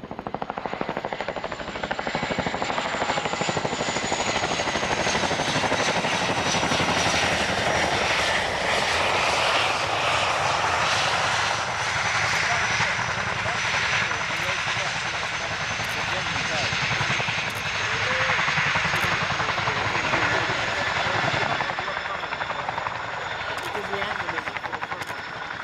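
A Chinook HC2 twin-rotor helicopter of 27 Squadron flies at RAF Waddington, its loud, continuous rotor and engine roar holding steady for the whole stretch, with only slight swells as it moves.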